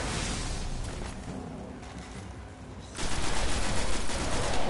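Sustained rapid gunfire from shooting enemies in the Destiny video game, a dense continuous burst that dips briefly, then swells louder and fuller in the final stretch, with no voices.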